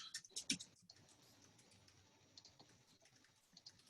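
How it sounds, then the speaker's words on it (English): Keys on a computer keyboard are typed in a quick burst at the start and then faint scattered taps, recorded quietly with a soft background hiss and no talk. "So it works very similar to Google Doc, Microsoft products, and then I can type here."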